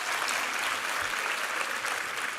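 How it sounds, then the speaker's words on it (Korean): Steady applause from a church congregation during a Sunday service, a sustained wash of clapping at moderate distance with no talking. "우리 하나님께 감사와 영광의 박수 올려드리겠습니다."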